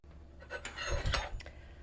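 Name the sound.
spoon and fork clinking in a bowl of broth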